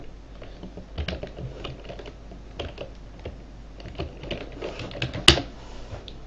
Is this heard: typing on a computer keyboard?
yes